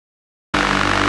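A full music mix processed through a Neve plugin, silent for half a second before the dense, loud, sustained sound cuts in abruptly and carries on without pause.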